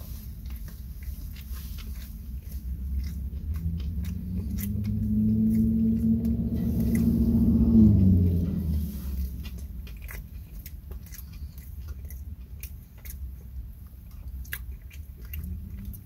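Someone eats a White Castle Sloppy Joe slider topped with pickles, with close, soft chewing and wet mouth sounds that swell midway and then ease off, no talking.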